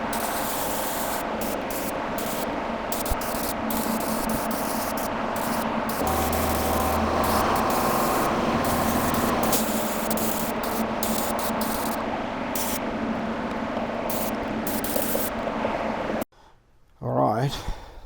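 Primer is sprayed onto car headlights for a TR8, a steady close hiss of spray that runs continuously with brief pauses, then cuts off abruptly near the end.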